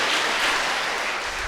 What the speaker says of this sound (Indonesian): Kita tepuk tangan untuk mereka sekali lagi.